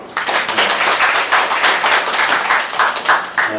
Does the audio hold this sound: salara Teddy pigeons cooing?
no